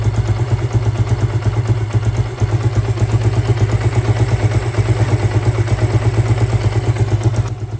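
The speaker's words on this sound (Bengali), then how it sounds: "ইঞ্জিন থেকে আর কিন্তু কোনো বাজে সাউন্ড আসছে না" A motorcycle engine idles close by after a loose timing chain was fixed, running with a loud, steady, rapid rhythmic chug and light mechanical clatter, unbroken and alone.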